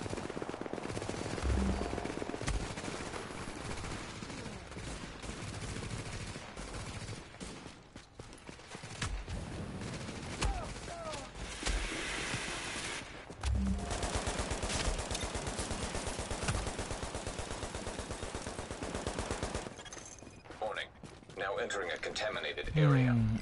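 Rapid machine-gun bursts and scattered gunshots from AI enemies in The Division crackle almost continuously through a firefight, mixed with sporadic game effects and someone talking over the action.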